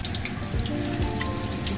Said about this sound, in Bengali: তো ভিউয়ার্স, পাতাকপির পাকোড়াটা ভেজে নিচ্ছে ফুপু